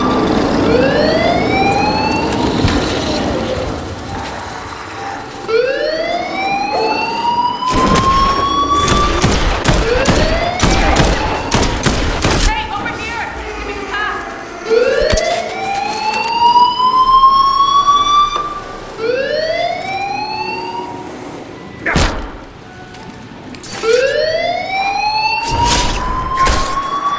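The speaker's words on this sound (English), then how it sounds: "I'll turn off the alarm." A rising and falling alarm siren wails loudly and repeatedly in a Dead Island 2 game scene, with bursts of harsh broadband noise cutting in between the sweeping tones.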